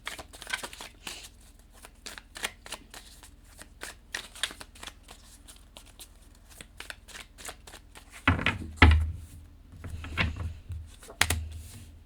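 Tarot cards being shuffled by hand, a rapid run of crisp riffling flicks up close, then a few heavier taps and slaps as the deck is handled, with no voices.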